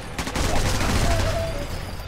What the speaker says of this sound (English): I'm trying to shoot some of the guys behind us.